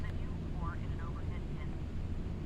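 An airliner comes in to land in Flight Simulator X with a steady jet engine roar filling the background, while voices talk over it.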